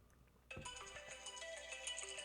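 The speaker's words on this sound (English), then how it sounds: "You got a phone call?" Phone ringtone, a melodic electronic tune that starts suddenly and keeps playing steadily, faint and indoors.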